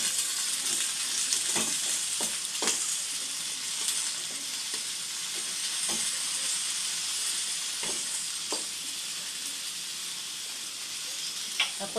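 String beans sizzle steadily in a hot pan for adobong sitaw, a constant frying hiss with occasional soft clinks of stirring, no talking.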